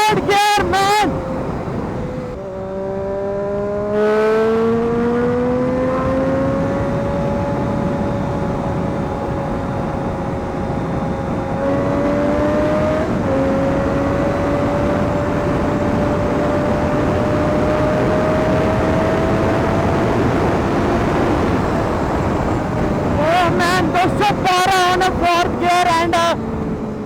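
A Triumph Daytona 675 motorcycle engine revs loudly as it accelerates through the gears during a top speed run, its pitch climbing steadily with wind roar over a continuous close drone.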